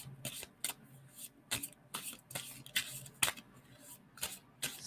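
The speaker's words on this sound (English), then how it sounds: "tell me when I should stop shuffling on that" Close, quiet hand shuffling of a tarot deck, a series of sharp papery riffles and taps at an uneven rhythm with no talking.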